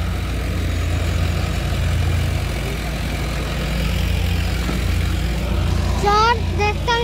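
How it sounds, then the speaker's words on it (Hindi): A three-cylinder tractor engine idles in a farm setting, giving a steady, close low rumble with no change in pace, and faint chirps come near the end. "तीन सिलेंडर में ट्रैक्टर है"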